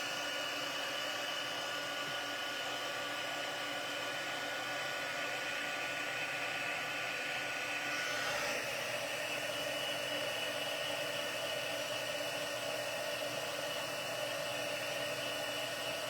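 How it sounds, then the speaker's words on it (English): A heat gun blowing steadily for a craft project, a continuous close whooshing whir with a faint tonal hum and a brief shift in pitch partway through, no voices. "let's get the heat gun going"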